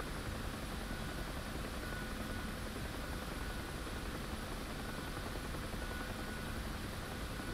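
Steady, loud rotor and engine roar from a UH-1 helicopter in the DCS combat flight simulator, a dense continuous wash that fills the whole stretch without breaks or talk.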